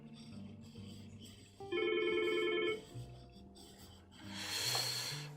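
A mobile phone rings with a bright tonal electronic ringtone in bursts of repeating notes, heard indoors during a camera lens modification session.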